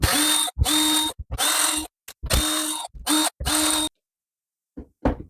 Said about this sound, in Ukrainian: відкручую зараз ось ці саморізи і подивлюсь, що там всередині